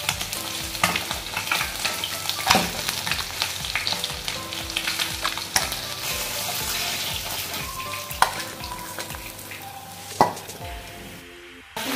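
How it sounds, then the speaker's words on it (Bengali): Small whole fish, aam shol (snakehead), sizzle and crackle in hot oil in a pan for a homemade Bengali recipe, with steady frying hiss and scraping, clinking turns of a spatula as the pieces are stirred and lifted out. "মাছগুলো ভাজা হয়ে গেছে, এবার আমি মাছগুলোকে তুলে নিচ্ছি।"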